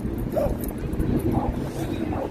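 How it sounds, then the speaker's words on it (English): Dogs bark and yip in a Manhattan park, their calls scattered amid a dense, steady wash of crowd noise and nearby chatter. "we got to sit down and watch the dogs for a minute"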